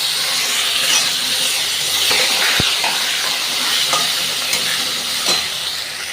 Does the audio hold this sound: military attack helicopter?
no